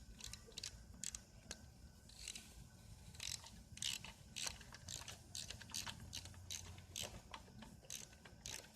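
A ratchet clicks in quick runs while screws are tightened on a Tao Tao 110 engine during an oil change, with rapid mechanical ticking close by, pausing briefly and then starting again over a low background hum.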